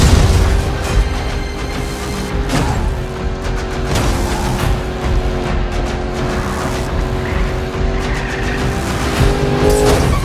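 Racing cars in Need For Speed Payback roar at full throttle, with tires skidding and squealing and occasional heavy impacts. The engines are loud and continuous, with no talk over them.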